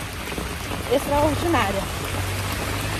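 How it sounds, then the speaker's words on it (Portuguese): Steady rain falls outdoors on a street, a broad, even hiss throughout, with someone speaking briefly over it. "Que maravilha, gente, essa chuva, tá bom demais."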